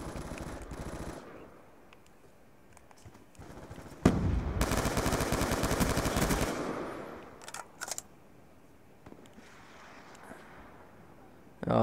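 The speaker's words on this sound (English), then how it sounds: "I'm shooting the burst behind him." Burst-fire gunfire in the PC version of Black Ops 2, with a loud sustained volley in the middle of the clip and quieter shots around it, close and dominant.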